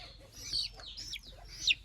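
A chicken clucks in short, close bursts, a couple of quick throaty calls over a quiet background.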